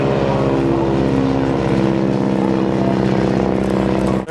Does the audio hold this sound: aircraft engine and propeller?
yes